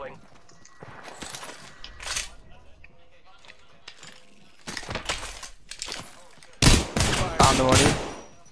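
Video game gunfire in clustered bursts of sharp shots, some loud and close, others fainter, with players talking between and over the volleys.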